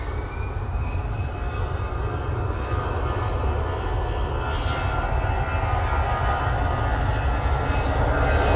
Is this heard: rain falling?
no